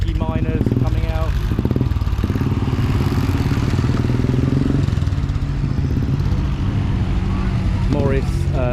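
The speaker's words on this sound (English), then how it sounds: "we've got the motorbikes now crossing the road" Motorbikes pass at a classic car rally in the Chiltern Hills, their engines chugging and rising in pitch as they cross the road nearby, with someone talking over the steady engine noise throughout.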